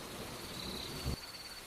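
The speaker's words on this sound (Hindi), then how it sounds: "बरसात अब बूंदों से तेज धार में बदल चुकी है।" Steady hiss of heavy rain pours throughout at moderate level, with a brief low rumble of thunder near the end before the downpour continues.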